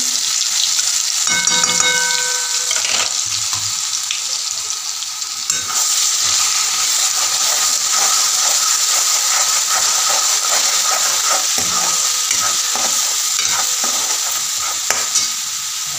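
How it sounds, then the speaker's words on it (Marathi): Steady, loud sizzling and hissing of mustard seeds and spices frying in hot oil, with occasional stirring scrapes, continuous throughout. "याला छान आता परतवून घेते."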